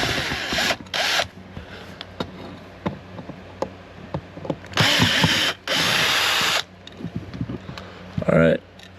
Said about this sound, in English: So just gonna use this drill real quick.